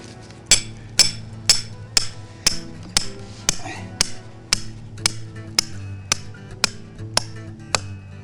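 A steel rebar stake is hammered into the ground for a trap, with about fourteen evenly spaced sharp metallic strikes ringing out loud and close, no talking.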